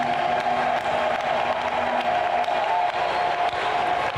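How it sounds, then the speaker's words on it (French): A church congregation cheering and ululating in praise of Jesus: a dense, steady roar of many voices with high trilling cries and scattered clapping, loud and sustained throughout with no pauses. "Pousse le cri de joie pour Jésus"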